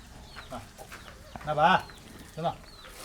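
Chickens, including a rooster, cluck in a few short bursts, one louder squawking call in the middle, fairly close with little else around.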